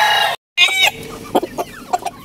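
A fighting rooster clucks close by in short bursts, with a higher squawk at the start and several low clucks after a brief silence.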